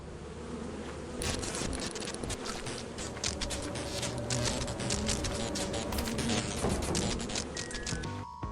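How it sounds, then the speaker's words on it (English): Swarming bees buzz continuously in a multiplayer bird video game, a dense, steady drone with scattered sharp clicks and blips layered over it, fairly loud and close throughout. "Oh, bees!"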